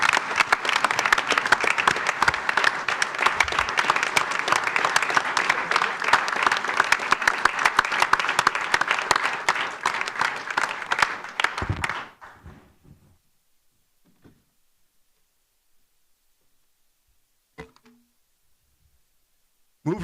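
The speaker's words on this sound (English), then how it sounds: "let's give him a round of applause" Applause from the audience at a village board meeting fills the room steadily for about twelve seconds, then stops abruptly, leaving near silence with a few faint knocks and shuffles.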